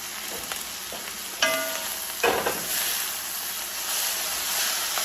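Bacon, egg and pasta being stirred together in a hot frying pan, a steady close sizzle and hiss with scraping stir strokes that swell louder partway through.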